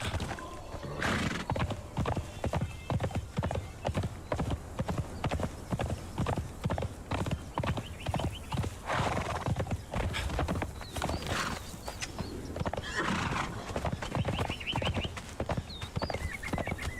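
A horse in the Conan Exiles game clip-clops along in a steady, close, loud rhythm of hooves, with occasional whinnies rising over the footfalls and no speech.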